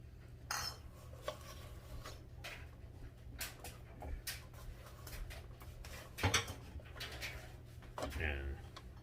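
Pickles run across a Muller V Pro five-blade mandoline slicer, giving a string of quick, sharp slicing strokes and clicks under a steady low hum, with a voice talking throughout.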